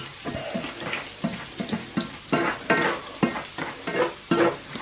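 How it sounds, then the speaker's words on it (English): Peppercorns and spices sizzling in a frying pan while being stirred, rhythmic scraping strokes over a gentle crackle, close and quiet with no talk. "Stir that in. Let those spices heat up a little bit."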